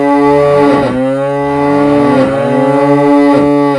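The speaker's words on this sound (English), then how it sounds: "Here is a little piece for viola consort." A viola da gamba consort plays a slow piece, bowed voices entering in turn and sustaining rich, nasal, mooing tones in loud overlapping lines with swelling note changes.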